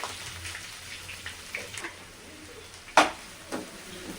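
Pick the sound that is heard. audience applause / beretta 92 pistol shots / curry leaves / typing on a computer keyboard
curry leaves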